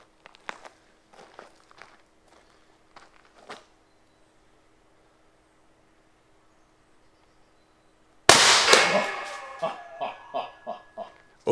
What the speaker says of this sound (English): let's do a test shot at 2000 PSI and see what happens